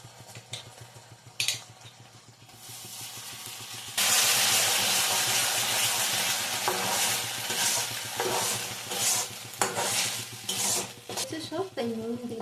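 Cauliflower manchurian sauce with tomato, soy and chilli sauces is stirred in a hot pan, a steady loud sizzle with scraping spoon strokes that swells sharply partway through and continues alone.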